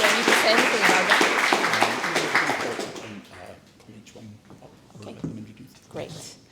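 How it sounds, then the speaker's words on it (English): Audience at a startup pitch evening in London applauding a presenter, loud clapping that fades after a few seconds into scattered claps and murmuring voices. "big round of applause for Eleanor"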